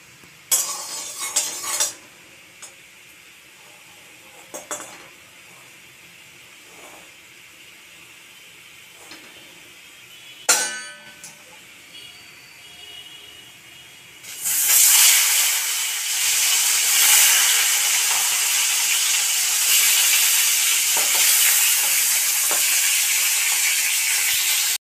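Lailontika fish fry in hot mustard oil in a kadai: after a few scattered clinks and taps, a loud, bright sizzle bursts in and crackles on steadily to the end.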